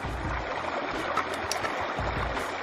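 Shallow creek water running steadily along the Sespe River in Los Padres National Forest, a continuous close rushing and babbling flow with no voices.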